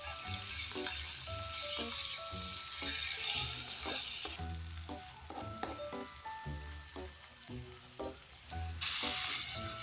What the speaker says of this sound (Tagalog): Igisa-gisa lang muna natin siya.